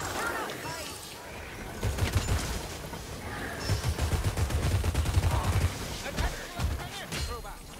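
Rapid gunfire bursts and booms in the Warhammer Vermintide 2 video game, dense repeated shots through the middle of the clip, with players talking over it.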